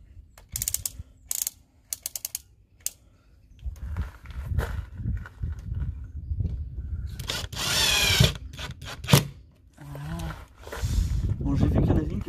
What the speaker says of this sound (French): Il nous reste 2 vis à mettre, comme vous voyez. Je vais les mettre avec vous